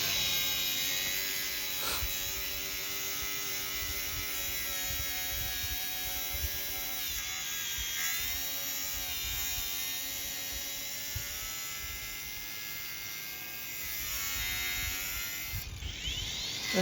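A power cutting tool grinds through a tire to free it from the wheel after the sidewall ripped, a steady loud whine with shifting pitch as the blade bites and eases, continuous without pauses.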